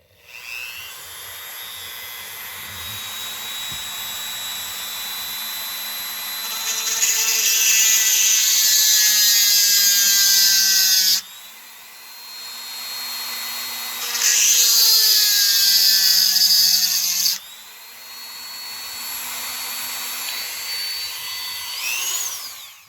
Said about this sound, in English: I punched a little knot right there where I'm going to drill the hole.